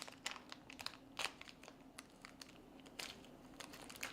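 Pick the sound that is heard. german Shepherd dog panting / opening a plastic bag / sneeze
opening a plastic bag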